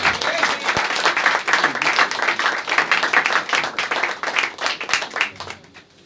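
A church congregation applauds during a worship service, with dense, sustained clapping filling the room for several seconds and gradually thinning toward the end.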